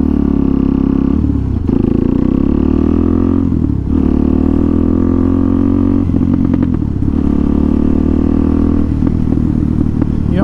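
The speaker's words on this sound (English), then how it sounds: "I'm gonna let y'all hear how the engine sounds a bit better." Loud, close motorcycle engine running with a steady rumble, rising and falling slightly in revs several times, recorded while motovlogging.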